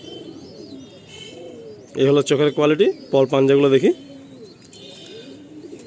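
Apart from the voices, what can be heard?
pigeons cooing and fluttering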